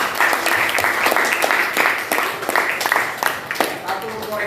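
Applause from a class of students fills a classroom, a steady patter of many hands clapping at close range that keeps going throughout, mixed with a few voices.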